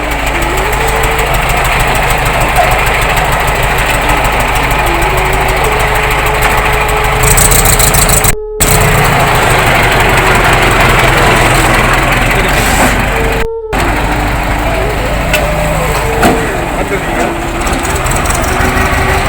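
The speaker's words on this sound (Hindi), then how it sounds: "देखिए ये ट्रैक्टर है जो बायोगैस से चल रहा है।" A tractor engine running on biogas (compressed cow-dung gas), a loud steady idling chug with a fast even rhythm close to the microphone, continuing for the full duration with two brief dropouts.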